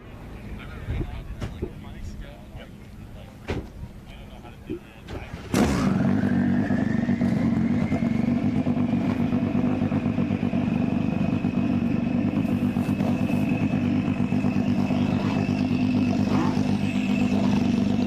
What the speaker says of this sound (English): So a fantastic sight and sound of Ford in motion.